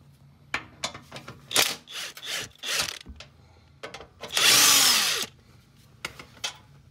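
A power tool removes a nut near the frame of an F150 during a big-three car audio wiring upgrade: several short clicks and brief bursts, then one loud, close whirring run of about a second, followed by light handling noises.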